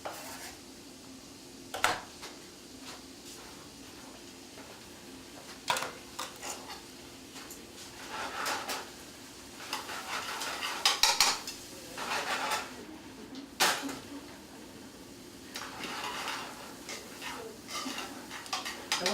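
Peppers and leeks cook in a saute pan in a kitchen. A utensil clinks and scrapes against the metal pan in irregular, intermittent knocks and rattles over a low steady background, close and moderately loud.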